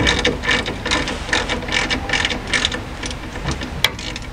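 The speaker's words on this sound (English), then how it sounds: "Get a six-sided socket on it, maybe." A ratchet fitted with a six-sided socket works a stripped brake bleeder on the rear drum brakes of a 1995 Chevy K1500 4x4, giving a close, steady run of quick pawl clicks with one sharper tick near the end.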